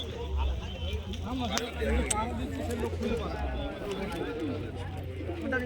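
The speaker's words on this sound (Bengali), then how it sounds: "বিভিন্ন পায়রা পেয়ে যাবে এখান থেকে" Pigeons coo in a low, continuous murmur at a busy pigeon market in Lakshmikantapur, with scattered bird calls overhead and people talking throughout.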